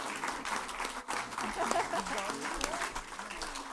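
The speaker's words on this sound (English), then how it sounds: "we'll clap and let him hear our appreciation" An audience at a long life ceremony for Garchen Rinpoche clapping in appreciation, a moderate steady patter of hands with voices talking over it.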